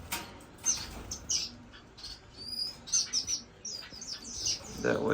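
Pet finches, including an Indian silverbill, chirp in an indoor bird room, giving bright, rapid tweets and short calls in overlapping bursts from several nearby birds.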